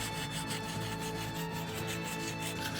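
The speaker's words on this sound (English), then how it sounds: "If you wouldn't mind, just keep doing it. rasping the inside of that, only about this far in." A hand rasp scrapes the inside of a part to roughen it for bonding. The rough, close scraping continues steadily with soft repeated strokes and no talk.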